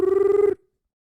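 Porsche Taycan electric drive sound in electric engine mode, a steady synthetic tone with a faintly pulsing rhythm that holds for half a second, then cuts off abruptly into silence.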